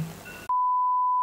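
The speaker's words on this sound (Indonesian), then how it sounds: "Iya bener, alarm bangun tidur siang bener." An alarm going off for an afternoon nap gives one loud, steady electronic beep tone that holds for about three quarters of a second, following a brief stretch of quieter background sound.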